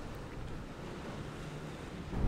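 Big sea waves crash along the seafront at Bridlington on the Yorkshire coast, a steady loud roar of surf mixed with wind buffeting the microphone, swelling toward the end.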